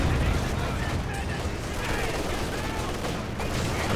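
Dense, continuous machine gun fire from MG Grenadiers in a strategy video game battle, a loud unbroken roar of rapid shots and battlefield noise throughout with no clear pauses.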